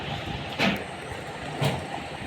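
A train pulling into a station gives a steady, loud mechanical rumble, broken by two short hissing bursts like brakes releasing air, with no talking.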